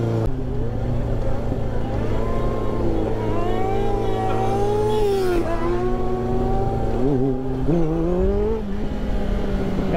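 Motorcycle engine revving during wheelie stunts, a continuous close engine note that rises and falls as the throttle is worked, with one noticeable dip and climb partway through.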